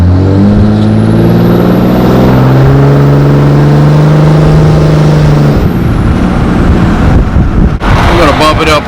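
A 2005 Cummins diesel pickup engine revs and pulls loudly, its droning tone rising and falling under heavy wind rumble, with louder clatter toward the end.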